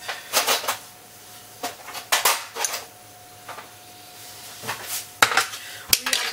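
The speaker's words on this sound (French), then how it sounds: "je mets ma casserole, je fais chauffer" A saucepan is set on the stove in a home kitchen, with several sharp metallic clanks and clatters of pans and utensils spaced irregularly, fairly close, amid quiet background.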